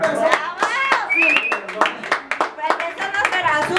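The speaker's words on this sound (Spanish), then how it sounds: "Ese aplauso efectivo." Brisk, close hand clapping at a birthday celebration with mariachi musicians, rhythmic and uneven, mixed with voices talking and calling out over it.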